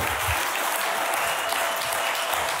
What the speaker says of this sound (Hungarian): Nagy-nagy tapsot adjunk az Úrnak.